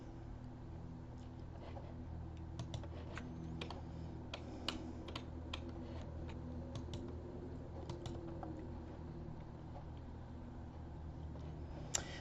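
Typing on a computer keyboard, soft irregular key clicks at a steady pace, quiet and close with a low background hum.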